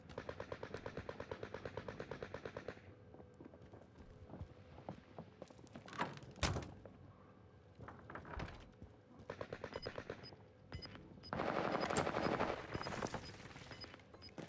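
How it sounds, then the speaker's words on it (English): Rapid machine-gun bursts ring out in a video game battle around a round tower, a steady rattling stream at first, then scattered single shots and a loud blast, followed by another dense volley. "I'm being shot at from that area."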